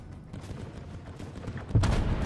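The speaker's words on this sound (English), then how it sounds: "To the left of us, there's shots." Gunfire in the video game Fortnite: a rattle of distant shots with a louder burst of firing near the end, no speech over it.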